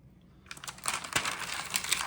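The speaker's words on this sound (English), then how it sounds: "sorry for the crinkling of the glassines in between" Glassine pages in a stamp stock book crinkle and rustle close by for about a second and a half after a quiet start, with sharp papery crackles.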